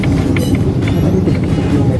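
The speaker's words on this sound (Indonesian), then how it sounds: "kereta ini adalah kereta bekas dari kereta Jepang" A former Tokyo Metro 6000 series commuter train on the Jabodetabek line rumbles steadily at a station, with brief clanks and squeals over a continuous low roar.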